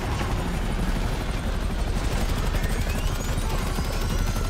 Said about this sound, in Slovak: helikoptéry musia zdochnúť